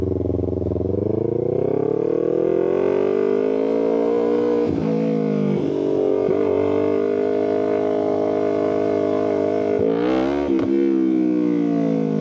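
A car with a new exhaust idles with a deep steady rumble, then revs up briefly a couple of times. It is close and loud throughout.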